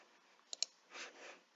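Two quick, close computer mouse clicks sound while working in the PIXLR image editor, followed by a brief, soft rush of noise in an otherwise quiet room.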